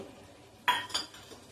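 Tomato pieces are dropped into a pot of simmering mutton curry, making a sharp clink of utensil against metal followed by a second softer knock over quiet background.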